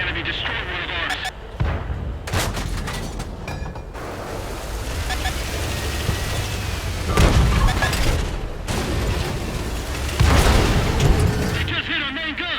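A shell hitting the player's tank in a video game: heavy booming impacts and rumbling blasts over a dense, loud battle roar, with a few sharp hits standing out.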